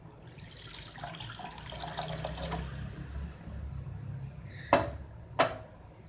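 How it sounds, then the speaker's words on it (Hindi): Water pouring into a glass for a salty sattu drink, a steady running splash in a quiet kitchen followed by two short sharp clinks near the end. "तो पहले मैं 1 गिलास पानी डालती हूँ।"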